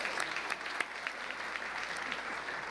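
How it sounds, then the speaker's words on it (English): Audience applause from a crowd at a city's State of the City address, steady dense clapping throughout with a few sharper claps standing out, no voices. "Let's give a round of applause for Buena Park."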